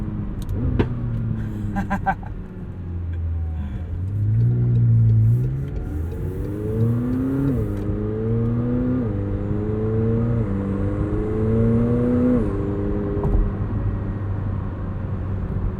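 A 2021 McLaren 720S Coupe engine pulling hard from inside the cabin, its tone rising in repeated climbs that drop sharply at quick gear shifts, loud and continuous.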